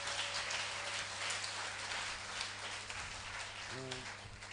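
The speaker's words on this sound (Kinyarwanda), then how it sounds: "Dukomere Imana amashyi." A church congregation applauding during a Rwandan prophecy service: a dense, rain-like patter of many hands, fairly distant, with a faint sustained tone in the background.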